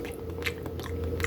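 Someone takes a bite of chorizo chili beans and chews it close to the microphone, making a few soft crunching and mouth sounds in a short burst.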